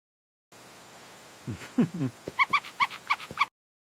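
A cartoon puppy yelps and whimpers in a short burst, followed by a run of about eight quick, high-pitched whines close up against a quiet background.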